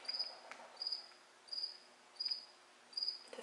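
A cricket chirps indoors in a house, five short, high, bright trills repeating about every 0.7 seconds, fairly faint and steady over a quiet room hush with no talking.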